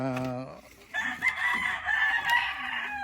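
A Boston Roundhead rooster gives a single close crow after a brief opening note, the call sustained and fairly faint, with quiet background noise.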